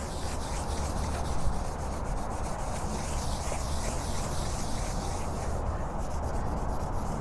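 Steady, close scrubbing of fabric softener against a car's bug-spattered paint, a continuous rough rubbing with no talking.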